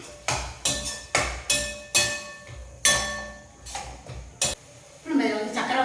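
Onions sautéing in a pan, stirred with a utensil that scrapes and clinks against the metal in repeated strokes about once a second, with frying sizzle underneath and a louder hiss near the end.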